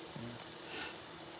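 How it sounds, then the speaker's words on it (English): Beef and cheese empanadas frying in oil in a pan, giving a faint, steady sizzling hiss throughout, with a brief low hum near the start and no talk. "Can you guys see it frying?"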